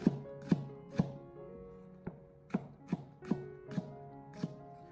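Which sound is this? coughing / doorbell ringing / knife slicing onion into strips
knife slicing onion into strips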